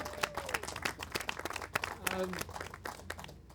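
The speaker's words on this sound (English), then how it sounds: "Let's give everyone a round of applause who showed up today." An audience claps a round of applause at a local talk-show event, with scattered, uneven hand claps mixed with a speaking voice and crowd murmur throughout.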